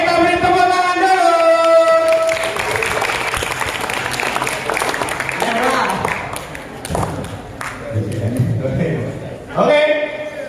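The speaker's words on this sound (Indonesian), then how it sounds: "kita beri tepuk tangan dulu" Audience clapping at an Islamic pre-Ramadan study gathering, a steady burst of hands filling most of the span under and around talking voices, rising again briefly near the end.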